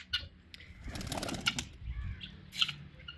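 Pigeons flutter close by indoors, their wings flapping in quick soft bursts with faint coos, alone in a quiet space.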